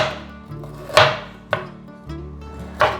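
A knife cuts ginger slices into thin shreds on a chopping board, four or five sharp, close taps spaced about half a second apart with quiet gaps between.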